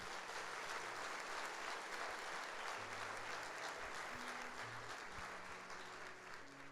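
A church congregation at a Sunday service applauds for Jesus, dense sustained clapping filling the room at an even level throughout, with faint low instrumental tones underneath.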